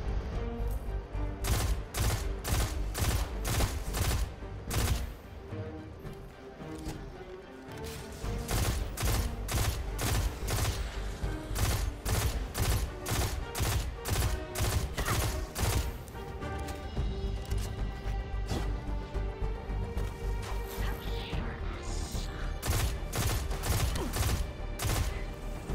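Rapid bursts of gunfire from Destiny 2, loud and close, with regular sharp shots in long strings, a short pause partway through and then steady firing that keeps going to the end, with no talk over it.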